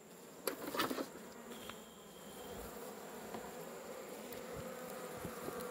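Bees from a honey-bearing nest buzz steadily throughout, a continuous insect drone with a brief louder burst near the start, heard close and alone without voices.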